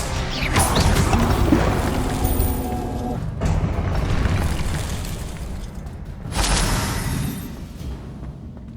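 Expelliarmus spell cast in the video game Hogwarts Legacy: loud, booming magical bursts with a crashing impact near the start and another surge later, over a steady game backdrop.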